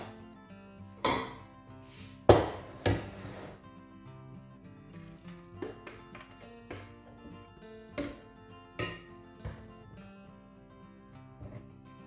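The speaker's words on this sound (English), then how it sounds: "we'll get that straight into a pan." Blended piri piri sauce is tipped into a pan, with a series of scattered clinks and clattering knocks of metal cookware, a few sharp louder hits among quieter taps, close by and without talk.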